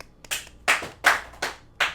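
Five sharp, close hand claps land at a steady, slightly uneven pace, each a crisp slap with a short tail and quiet gaps between, with no voices.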